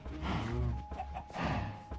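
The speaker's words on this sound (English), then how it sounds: "Some chickens, though." Minecraft chickens cluck in short bursts, two clusters of throaty clucks up close, with a faint steady tone underneath.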